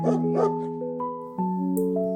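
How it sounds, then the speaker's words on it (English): A dog barks twice in quick succession near the start, over a steady background of sustained tones that carry through the whole short stretch. "The dog is barking."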